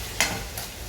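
Tomatoes are stirred in a sizzling pan for fish curry, with two quick scraping strokes over a constant close frying hiss.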